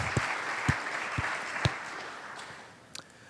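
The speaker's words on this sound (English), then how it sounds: "Give a hand clap." Scattered hand claps from an audience at a Bitcoin conference in Indonesia, a few distinct sharp claps spaced through the moment rather than sustained applause, fairly close and moderate in level.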